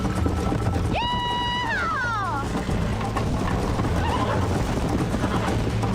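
In the Red Dead Redemption Remaster on PC, a horse bucks and gives one loud, shrill whinny that falls away over about a second, over the steady thud of its hooves.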